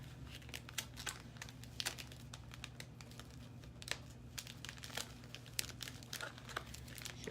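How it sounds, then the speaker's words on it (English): Faint packaging being opened at a craft table while making a grapevine bee wreath, with scattered soft crinkles and brief tearing rustles over a low background hum. "Sorry if you're hearing crinkling."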